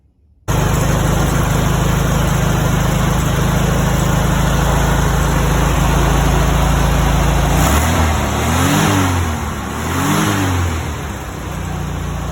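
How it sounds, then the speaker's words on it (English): An air-cooled 1600 dual port Volkswagen engine in a 1974 VW Thing starts and idles loudly with a rattly, even beat, then revs up twice before settling back to idle. "engine ran great, and here it is running."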